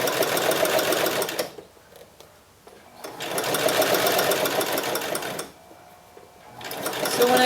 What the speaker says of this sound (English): We're just sewing the liner to the body fabric